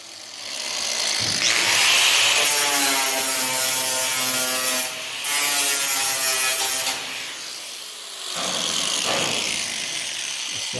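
A power cutting tool whines and grinds through a rusty car drip rail, a loud, close, tonal metal-cutting sound in sustained bursts with brief dips and pauses as the cut progresses.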